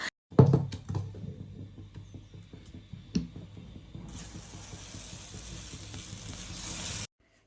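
Dosa batter sizzles on a hot pan, a steady hissing frying sound that swells louder and brighter partway through, with scattered clicks and scraping, no talk.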